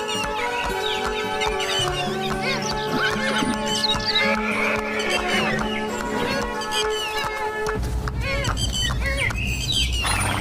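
A horse ridden by a king leaving a palace whinnies loudly over steady clip-clop hoofbeats, with birds chirping and a musical score layered throughout.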